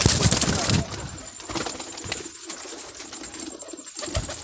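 Pigeons at a pigeon club give a burst of wing flapping at the start, then soft intermittent cooing and rustling at close range over a noisy background.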